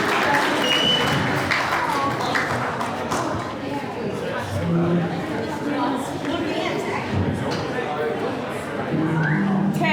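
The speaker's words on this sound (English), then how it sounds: "Give her a round of applause, everybody." Wedding guests applaud as the bridesmaid comes up to speak at her best friend's wedding, a steady wash of clapping mixed with crowd chatter and occasional thumps, filling the whole stretch at a constant level.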